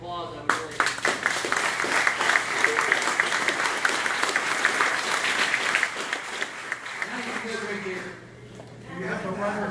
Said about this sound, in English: if you could all just give her a round of applause